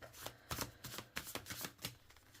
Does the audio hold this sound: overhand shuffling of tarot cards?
yes